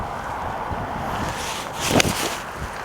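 Strong wind on a golf course buffeting the microphone, a steady rushing roar with a louder gust near the end.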